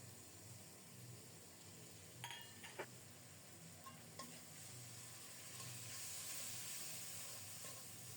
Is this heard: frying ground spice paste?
yes